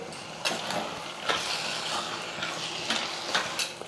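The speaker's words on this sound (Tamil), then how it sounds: "ஒரு நிமிஷத்துக்கு நல்லா வந்து கத்திரிக்காய் மொச்சக்காய் எண்ணெயில் வந்து நல்லா வதங்கட்டும்" Brinjal and green field beans sautéing in oil in a home kitchen, a soft steady sizzle punctuated by light scraping stirs every half second or so, fairly quiet and close, with no talking.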